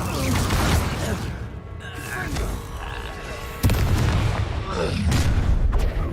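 A Confringo blasting spell in Hogwarts Legacy detonates in booming bursts amid combat, with one sharp explosive impact standing out midway and a voice heard shouting over the clash.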